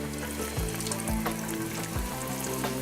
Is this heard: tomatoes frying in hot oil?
yes